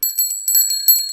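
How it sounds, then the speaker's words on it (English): Several bicycle bells ring in quick overlapping bursts, bright metallic dings repeating loudly and close for about a second. "Danny, Susie and Rebecca ring their bells."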